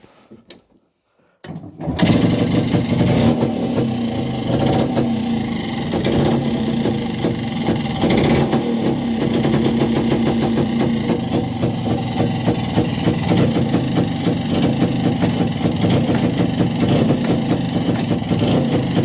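A Muravey motor scooter engine cranks briefly after a near-silent pause, catches and settles into a loud, steady rattling idle that runs on for the rest of the stretch with fast regular firing pulses.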